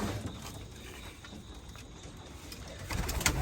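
Racing pigeons cooing softly inside a loft, a low murmuring chorus of several birds with faint shuffling and a slightly louder flutter near the end.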